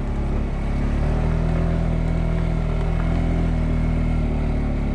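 A Kymco Agility 50 carbureted scooter engine, still cold and bogging down while riding, drones loudly and steadily close by with a throaty, buzzing hum throughout.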